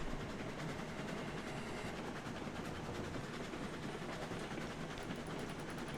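A steam train in a video game rolls along rails on a run toward an iron mine, with a faint, steady rumble and a continuous rhythmic clickety-clack of wheels, without talking.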